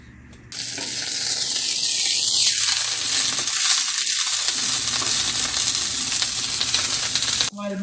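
Asparagus spears sizzle on a hot griddle, a steady broadband hiss that holds continuously for several seconds with a few brief scraping ticks near the start and no talk.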